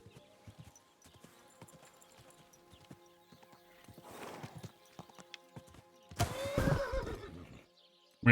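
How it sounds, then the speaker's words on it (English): A horse in the Kingdom Come Deliverance II video game neighs loudly near the end after a stretch of soft, scattered hoof clops, with the whinny standing out sharply above the quiet background. "it is Henry's horse from the first game."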